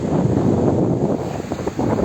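Steady wind buffets the microphone at the seaside in Ayancık on a hot July day, a dense, continuous roar filling the whole stretch with no voices.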